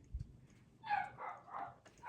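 A four-week-old puppy whimpers and gives small yipping barks from inside a box, a few short, high whines close by and fairly faint in a quiet room.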